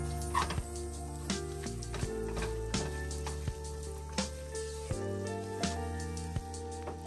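Olive oil and melted butter sizzle in a pan, a steady close crackle with a few louder pops, no talking over it.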